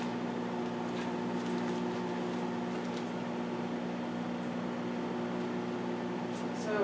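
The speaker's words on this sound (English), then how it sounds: "we're going to put it back in the microwave anywhere from 30 to 45 seconds" A microwave oven runs while cooking a mug cake, a faint, steady hum with a constant tonal drone and no clear voices.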